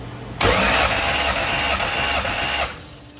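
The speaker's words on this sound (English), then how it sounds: "the longer you hold it, the more it cranks" A ProMod race car engine cranks loudly and close for about two seconds, a steady rapid churning that stops abruptly and leaves a low rumble behind.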